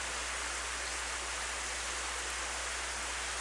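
Steady rain in the visual novel game Planetarian, heard as a dense, even hiss that is constant and moderately quiet, with no voices over it.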